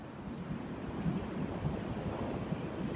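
Wind blowing outdoors, a steady low rumbling gust buffeting the microphone throughout, fairly quiet with no talk.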